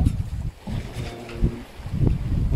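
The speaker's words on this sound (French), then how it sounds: "On l'a fait avec l'arrivée d'un grain, qui est là, on le voit, j'imagine, là, avec le vent." Gusty wind buffets a sailboat at sea as a squall arrives on an ocean crossing from Cape Verde to Martinique, rough low rumbling and flapping with surges in strength, close to the microphone and with no talk.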